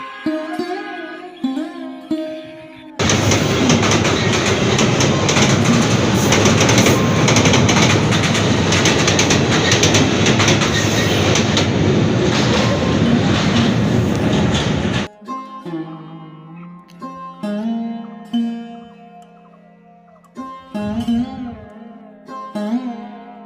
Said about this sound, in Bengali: দেখতে দেখতেই ট্রেন আসতেছে রেল লাইন দিয়ে